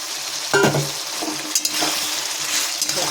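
Pointed gourd sautéing with spices in a pan: a steady loud sizzle and frying hiss runs throughout, punctuated by a few scraping stirs of a utensil against the pan.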